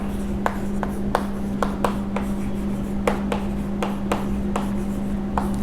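Marker or chalk strokes on a board during an accounting lecture: a dozen or so short, crisp scratches in an irregular rhythm, close and clear over a constant low electrical hum.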